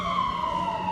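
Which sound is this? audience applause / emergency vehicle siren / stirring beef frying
emergency vehicle siren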